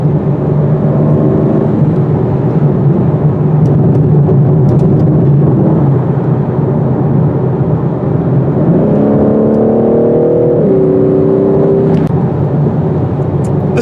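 A 2021 BMW M4 Competition cruises along a bumpy road with a steady whirring engine and tire drone throughout, the engine note climbing audibly through a gear partway in, with no talking.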